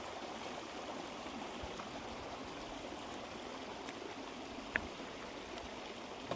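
A hidden waterfall stream at Ramoji Film City near Mazidpur village, Hyderabad, rushes in a steady, broad wash of flowing water throughout, with a couple of faint clicks near the end and no voices.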